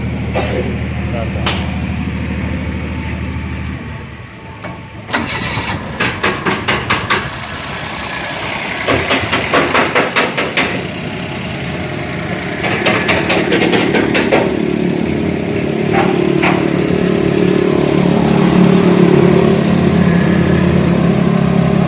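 A car's diesel engine, just treated with a diesel and engine oil flush, cranks, starts and settles into a loud, steady clattering run up close, with sharp repeated knocks early on and people talking nearby.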